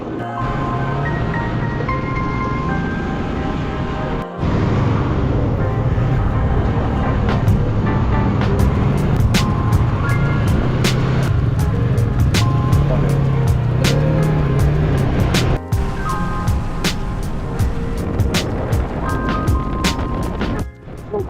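Steady road and tire rumble from a car driving on a highway in South America behind big trucks, a continuous low drone that stays constant throughout with faint higher engine and wind noise, no talking.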